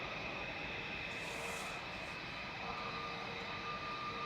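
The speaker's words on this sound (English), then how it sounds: "Shuttle 3 Romeo about to taxi in front of us" An Aer Lingus UK airliner taxiing at Manchester Airport gives a steady, even engine drone with a faint high whine, heard at moderate distance and unbroken by voices.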